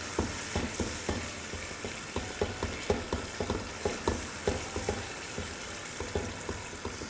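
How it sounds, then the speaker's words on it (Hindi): Softened tomatoes being mashed and stirred in a hot pan for aloo keema karahi: a steady soft sizzle under rhythmic scraping and pressing strokes of a spoon, about two per second, with no voices. "थोड़ा सा स्मुश कर देते हैं।"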